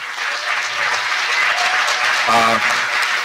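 An audience at a live film Q&A applauds in a dense, loud, continuous wash of clapping, with a voice rising briefly through it.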